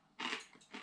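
Someone bites into a crispy potato and cabbage tortino, giving two close, loud crunchy bites with a short pause between them.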